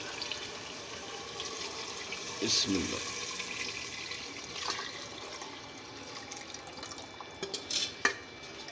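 Water is poured into gram flour and yogurt for kadhi, a soft liquid splashing and trickling in a pot, with brief quiet speech near the start.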